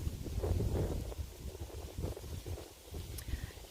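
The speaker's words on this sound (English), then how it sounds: "And the wind is picking up," Gusty outdoor wind buffets the microphone in uneven low rumbling surges, fairly loud throughout, with no speech.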